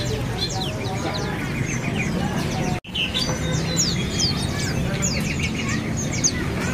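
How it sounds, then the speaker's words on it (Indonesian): Pleci white-eyes, including Monti and Madura varieties, chirp inside a bird shop kiosk, with many quick high tweets overlapping over a busy background hum, broken by a brief dropout midway. "Di depan kita ini ada burung Pleci Monti ya, dan Pleci Dakun Madura"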